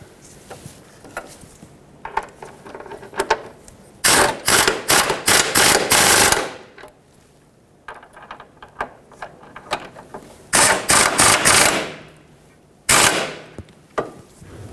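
Ratchet wrench tightening receiver hitch bolts on a 2013-2020 Nissan Pathfinder, heard as loud bursts of rapid clicking ratchet strokes separated by quieter pauses, close to the microphone.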